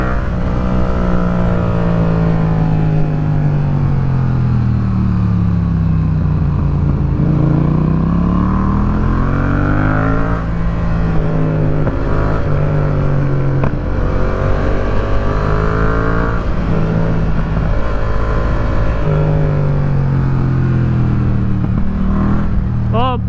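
A BMW S1000RR motorcycle engine drones loudly and steadily, its pitch sliding up and down as it revs and eases off through a long continuous run.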